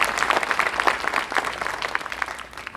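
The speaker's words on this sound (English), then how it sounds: "Let's give them a big round of applause." An audience applauds steadily at a school music event, with dense, fairly close clapping that holds through the moment and tapers slightly toward the end.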